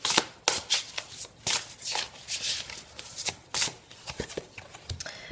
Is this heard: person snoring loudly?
no